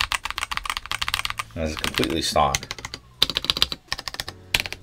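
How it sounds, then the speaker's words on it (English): Someone types quickly on an Akko PC75B Plus V2 75% keyboard with a polycarbonate plate and stock Akko CS Blue switches, producing crisp, clacky bursts of close keystrokes, with someone speaking briefly in the middle. "This is stock, and it's running, Akko Akko CS Blues."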